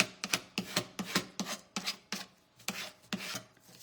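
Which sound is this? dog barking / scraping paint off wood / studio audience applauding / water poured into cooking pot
scraping paint off wood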